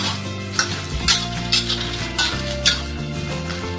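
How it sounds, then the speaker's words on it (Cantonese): Preserved olive vegetable stir-fried in a wok for Chaozhou-style minced meat fried rice, a steady loud sizzle broken by repeated scraping clanks of a metal spatula against the pan. "爆香啲欖菜"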